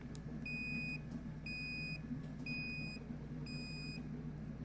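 A MicroBit microcontroller on a breadboard gives four short, evenly spaced high electronic beeps about a second apart, each one steady and clear, over a constant low background rumble.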